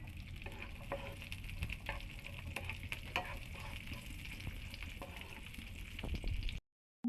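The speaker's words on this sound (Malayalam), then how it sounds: "അണ്ടിപ്പരിപ്പും മുന്തിരിയും ഇതിലേക്ക് ഇട്ട് ഇത് മൂപ്പിച്ചെടുക്കാം." Cashews and raisins frying in two spoons of ghee in a pan, a steady close crackling sizzle with occasional stirring clicks, continuous for several seconds before cutting off abruptly.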